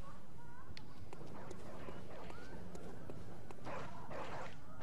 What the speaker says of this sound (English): I don't think I'm gonna kill the dogs in cages, even though they're kind of bad dudes.